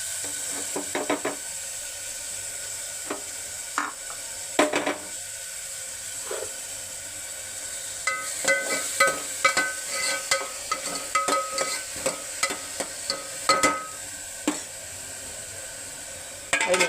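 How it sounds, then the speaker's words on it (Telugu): Grated onions frying in oil for an ivy gourd gravy curry, a soft steady sizzle under intermittent clinks and scrapes of a stirring spoon, fairly quiet and close. "నిమిషాల పాటు కొంచెం బ్రౌన్ కలర్ వచ్చేలా ఉల్లిపాయ వేయించుకోవాలి"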